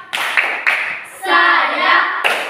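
Group rhythmic clapping chant in a classroom-style gathering, several sharp bursts of clapping near and loud, with a voice chanting between them.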